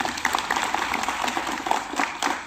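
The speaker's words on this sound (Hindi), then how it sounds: "उनके लिए जोरदार ताली बजाइए" An audience at a free health camp in a school claps loudly for a visiting doctor, a dense, continuous burst of applause filling the short moment.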